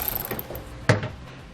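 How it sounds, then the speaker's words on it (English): A ratchet fitted with an 8mm socket works small nuts off a car's heat shield, giving a few faint clicks and then one sharp, close metallic snap partway through, with no talking. "We're going to use an 8mm socket to get those removed."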